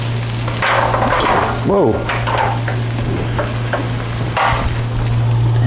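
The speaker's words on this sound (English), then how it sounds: "So I'm just going to briefly saute the leeks." Leeks sizzle and fry loudly in hot olive oil in a pan, with steady crackling and stirring scrapes close up, and a brief exclamation from a person partway through.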